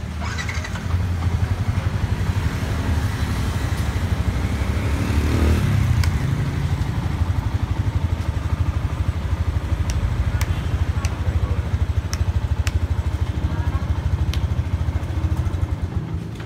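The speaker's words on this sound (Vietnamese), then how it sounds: "Em nổ máy thử." A Yamaha Exciter 150 motorcycle engine runs steadily at idle, a low continuous rumble with light mechanical clatter, fairly close and constant throughout.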